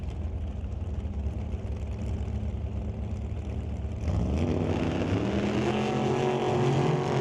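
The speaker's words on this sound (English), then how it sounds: "That will bring up Ryan Johnson here in the left lane in that 63 Corvette, facing off against Greg Dowdy in the 2005 Dragster" Drag race launch at a Doorwarz event, a 1963 Corvette facing a 2005 dragster: a steady engine drone that jumps in level partway through, then climbs in pitch as the cars rev and pull away, loud with no speech.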